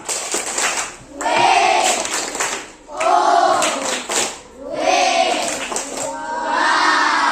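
Three bursts of group clapping and chanting from a class of children in a classroom, each a couple of seconds long with brief pauses between, loud and close.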